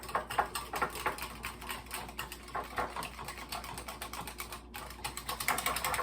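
A whisk beats peach cobbler batter made with baking powder, salt and vanilla in a bowl, giving rapid, steady, light clicking strokes that continue evenly and stay fairly faint throughout.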